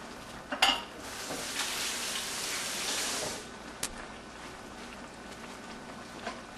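Rice is stirred in a pot for stuffed bell peppers, a scraping, sizzling rustle with a couple of sharp clicks of spoon against the pan, fading to a soft simmer, quiet and close.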